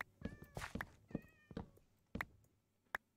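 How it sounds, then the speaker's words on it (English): A cat meows repeatedly in short, rising calls at irregular intervals. The calls are faint and sound somewhat distant, with no one speaking. "did you have cat noises on your stream, or is there a stray cat outside my second floor window?"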